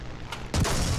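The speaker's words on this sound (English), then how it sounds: "Ah, ricochet." Tank shell ricochet in the War Thunder video game, a tier 3 German tank battle: a sudden loud metallic impact bursts in at mid-clip over steady low engine rumble, then rings on briefly.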